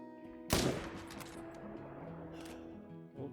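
A single loud rifle shot fired at a European bison in a hunting video game, with a sharp blast and a long rolling echo that fades, followed by a faint thud near the end.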